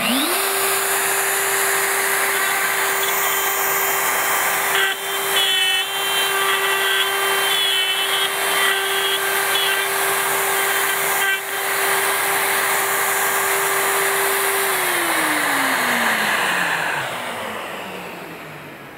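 A power tool, likely a router, cuts small pieces of wenge wood locked in a jig, producing a loud, steady whine that holds for about fifteen seconds and then winds down as the motor slows, with no talking.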